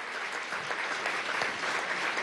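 Sustained applause from an audience at an international congress on democracy, a dense even wash of clapping throughout with no voices.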